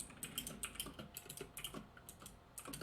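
Rapid, fairly soft keyboard typing close to the microphone, a run of irregular key clicks with a brief pause before a final short burst and no speech.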